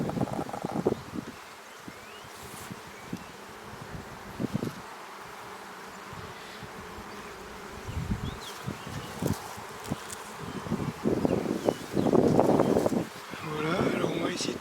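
Honey bees buzz around an open beehive during a spring inspection, a constant droning hum close by, with a person talking over it and bursts of handling noise and rustling.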